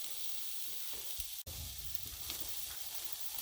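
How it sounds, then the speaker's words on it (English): Seafood kabobs sizzle as they cook, giving a quiet, steady frying hiss with one brief click partway through. "You're already getting that sizzle."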